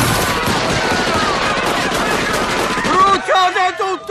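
Rapid machine-gun fire in a Simpsons cartoon scene with Italian dubbing: loud, dense bursts of automatic shots rattle for about three seconds, then stop as a voice speaks.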